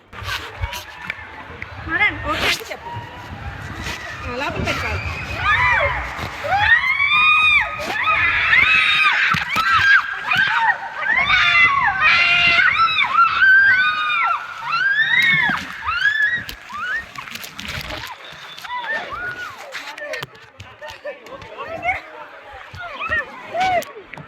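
A crowd screams and shrieks in excited bursts amid rushing, splashy noise from a water park ride, with voices calling out through much of the clip.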